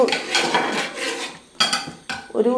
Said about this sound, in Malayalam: എന്തായാലും ഒരു പാത്രം വേണം. അതിവിടെ വെക്കുക.